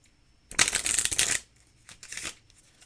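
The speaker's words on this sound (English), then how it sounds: "So we'll give this a shuffle." A deck of playing cards bridge-shuffled in midair, a close, crisp riffling flutter lasting under a second, then a shorter second burst of cards settling, in a quiet room with no talking.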